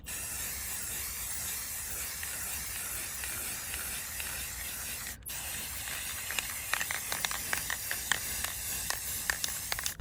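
Rust-Oleum Gloss Clear coat sprays from an aerosol can in a close, continuous hiss that stops briefly midway, then returns as a series of short, sharp bursts.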